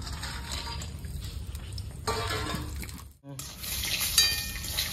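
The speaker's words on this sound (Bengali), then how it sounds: "বড়িটা ভেজে দেবো।" Bori lentil dumplings fry in a pan with quiet sizzling and stirring, plus light clinks of a utensil against metal and a short gap before the sound resumes louder.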